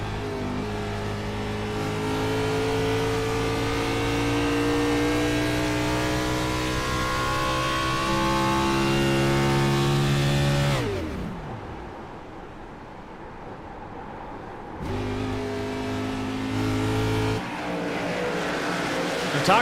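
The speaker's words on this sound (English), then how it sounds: "Sounded like he was out of the gas and on the clutch in that corner again." Onboard audio from a Gen 6 Cup Series stock car racing at Nashville: loud engine drone with rising and falling harmonics, then a drop to quieter coasting on the clutch before the engine picks back up.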